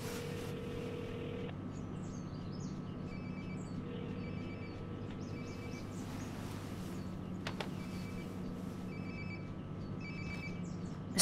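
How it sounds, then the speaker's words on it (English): A mobile phone rings nearby in the video game Life is Strange, a repeating electronic ringtone pattern in short bursts over a low steady room hum, with no talk. "Sounds like my phone is definitely nearby."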